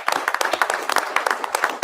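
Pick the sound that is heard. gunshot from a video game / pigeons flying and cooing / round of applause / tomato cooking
round of applause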